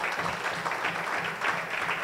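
An audience claps together in a steady, even patter that carries on for the whole stretch at moderate loudness, with no voices over it.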